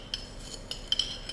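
A spoon taps and scrapes against a bowl while crushing and mixing sriracha chili flakes, making several light, irregular clinks that stand out faintly over a quiet background.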